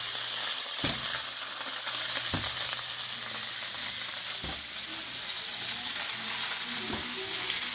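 A steak sears in a well-seasoned cast iron skillet, giving a steady, close, loud sizzle and hiss with a few soft knocks of the pan or utensil.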